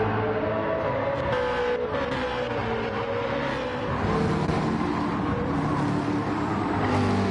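McLaren GT2 race cars in a racing video game on the Deep Forest Reverse track drone continuously at close range. Several engines overlap, their pitches rising and falling as the cars run together.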